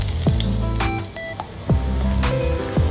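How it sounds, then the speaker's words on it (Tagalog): Garlic frying in cooking oil in a pot, a steady close sizzle with a few sharp crackling pops and spatters scattered through it, no voices. "Maglalagay na po ako ng cooking oil sa ating pot. Then uunahin ko na pong ikisa yung ating bawang."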